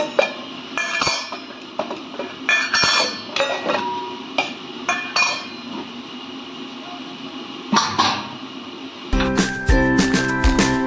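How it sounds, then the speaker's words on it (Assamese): Dishes and cutlery clink and clatter in bursts while a tiffin is packed in a home kitchen, with sharp scattered knocks and a denser run of metallic rattling near the end, close and moderately loud. "এতিয়া মই টিফিনটো ৰেডি কৰি লওঁ।"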